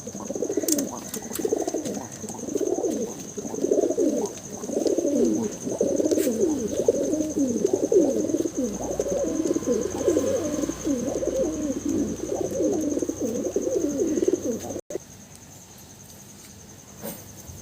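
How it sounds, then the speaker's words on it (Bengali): A male pigeon with a white head coos in a steady run of repeated low, throaty calls for about fifteen seconds, close and fairly loud, ending abruptly before a short quieter stretch. "এটাও একটা নর পায়রা, মুন্ডি সাদা"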